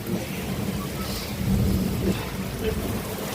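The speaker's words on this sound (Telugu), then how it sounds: "వర్షం వచ్చింది" Early-morning steady rain with low rumbling thunder rolling underneath, a continuous dense wash of sound with no voices.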